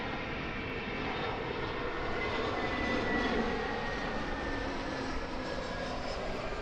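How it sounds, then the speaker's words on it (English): An EasyJet airliner at Lisbon Airport roars steadily with a broad, even engine rumble and hiss, holding near-constant loudness throughout with no talking. "That's EasyJet."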